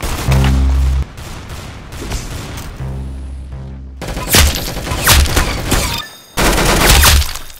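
Rapid bursts of gunfire from the Roblox shooter Arsenal, loud and close, with dense volleys broken by short gaps and a brief silence before the shooting resumes.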